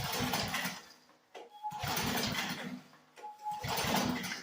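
A choked 10hp Briggs and Stratton engine with the throttle at half, being cranked to start: three faint, whirring cranking bursts with short gaps between them. The engine does not catch.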